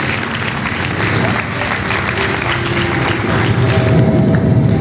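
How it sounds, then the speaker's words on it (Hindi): Loud, sustained applause from a crowd fills the whole stretch, dense clapping with a steady roar, swelling slightly toward the end. "जोरदार तालियां जी इस सीट के लिए।"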